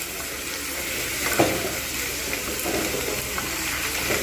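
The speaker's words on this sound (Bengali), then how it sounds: "এরকম করে আমি কিন্তু বেশ কিছুক্ষণ নাড়িয়ে নেব।" Potatoes and beans frying in a pan for a Bengali beans posto dish are stirred, giving a steady sizzle with occasional scraping clinks of a spoon against the pan, close and continuous without speech.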